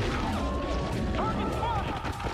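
Gunfire aimed at a monster in a Poppy Playtime horror short film, heard as a dense, continuous barrage of shots and crashes, packed together under a swirling layer of score and voices.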